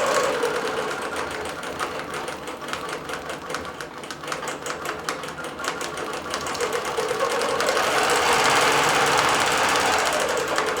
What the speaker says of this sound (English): I've actually turned the machine speed up a little bit